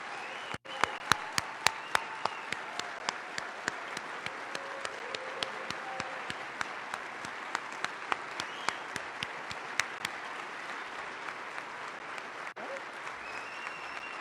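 An audience at a Texas gubernatorial debate applauds the candidates, sustained dense clapping with a few sharp louder claps standing out, heard from within the hall with no talk over it.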